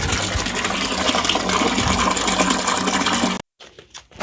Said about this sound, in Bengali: আর ওদিকে আমি জল নিয়ে ফেলি